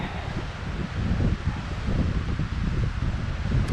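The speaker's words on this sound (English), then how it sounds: "And it's breezy too." Breeze buffeting the microphone on a hilltop ledge at Rogers Ledge, a steady low rumbling gust with rustling and no voices.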